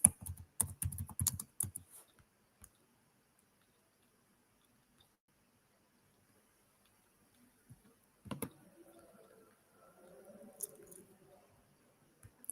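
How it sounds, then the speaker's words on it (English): Keys tapping on a smartphone in a burst of rapid clicks early on, then a lone sharp tap and scattered faint rustling; no voices. "we're going to type in infographics"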